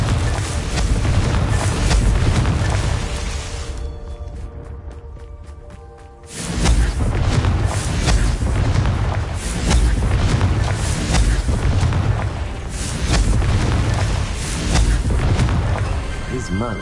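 Confringo blasting spell exploding in Hogwarts Legacy, a loud fiery boom over dense game music and effects, with a brief quieter gap before another burst of sustained blasting noise; a voice speaks over it.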